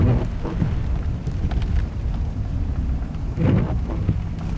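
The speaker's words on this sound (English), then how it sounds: "The wind has come on tonight, like really strong, and lots of rain." Rumbling wind roars and gusts steadily with a low, rough texture, rain blending into the noise, close and fairly loud.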